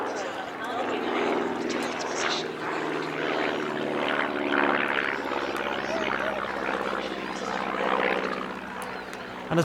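Propeller aircraft carrying Aero Superbatics wingwalkers at the Midlands Air Festival airshow, a continuous loud engine drone that swells and fades as it passes, with a voice talking over it.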